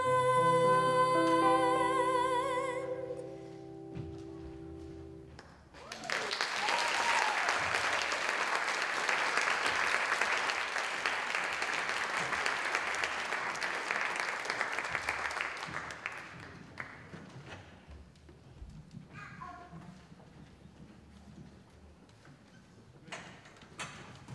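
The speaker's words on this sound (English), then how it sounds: "Let's give them a round of applause." An audience at an arts birthday celebration breaks into sustained applause after a song's final notes, a dense, loud wash of clapping lasting around ten seconds before thinning out.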